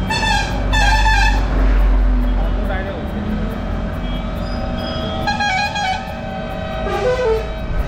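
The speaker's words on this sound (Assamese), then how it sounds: "ট্ৰাকখনৰ হৰ্ণটো কিবা ডাইৰেক্ট হৈ গৈছে মানে বাজিয়ে আছে বন্ধ কৰিব পৰা নাই" A stuck truck horn blares nonstop at a second-hand bike dealership in Guwahati, loud and steady through the clip, with repeated honking bursts over continuous street and engine noise.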